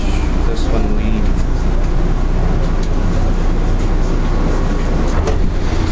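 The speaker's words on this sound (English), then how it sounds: "Alright, here, let's watch this train leave. The doors are closing." An automated airport train at Denver International Airport pulls out of the Concourse A station, a loud steady rumble and rolling roar with faint clicks, heard close from the platform.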